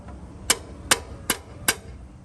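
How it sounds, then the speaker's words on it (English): A hammer strikes a long pry bar to drive a CV axle into a Toyota 100 Series Land Cruiser or Lexus LX470: four sharp, close metallic blows at a steady, even pace, with no talk. "I'm just going to drive in with my hammer."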